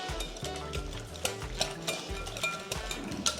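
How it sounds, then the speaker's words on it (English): Crab cake mixture with hot sauce, pepper and salt being whisked in a bowl, a steady run of quick scraping and tapping strokes up close, with a low hum of music underneath and no talking. "all you do is whisk this together"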